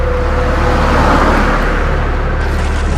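Steady car engine and road rumble from inside a moving vehicle on a quiet road at night, a continuous loud drone with a faint whine, no voices.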